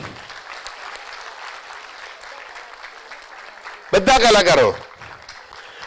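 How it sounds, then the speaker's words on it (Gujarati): An audience claps for the performing artists at an event honouring a chief guest, a continuous wash of applause under a speaker's voice, with a brief louder burst near the end. "એ સર્વ કલાકારો માટે જોરદાર તાળી પાડે"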